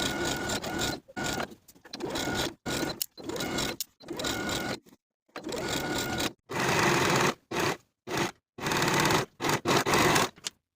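A sewing machine runs along a curved crotch seam of women's pants, buzzing in many short, choppy bursts with brief silent gaps, close and steady in level.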